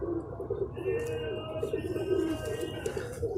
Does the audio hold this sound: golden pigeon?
yes